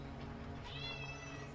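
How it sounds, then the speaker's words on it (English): A cat meows with a rising, wavering cry over steady background hum and room noise during a tabletop game session, brief and moderately close. "I love that the cat started meowing"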